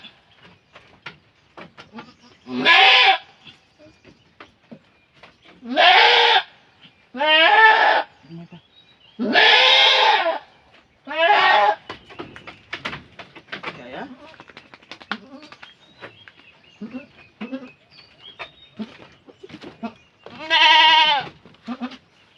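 A goat that has just given birth bleats loudly and repeatedly, about seven long wavering cries spaced a few seconds apart, close by with quieter rustling and clicks between them.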